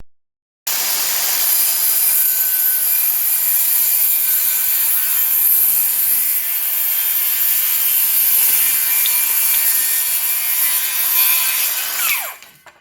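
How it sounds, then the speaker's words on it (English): A DeWalt XR 20-volt battery-powered circular saw cuts through a wooden trellis board, a steady loud high-pitched whine running unbroken for about eleven seconds before spinning down at the end. "I'm going to be using here the DeWalt XR 20 volt battery powered circular saw to make my cut"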